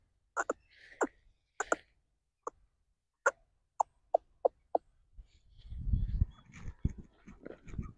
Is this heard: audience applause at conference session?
no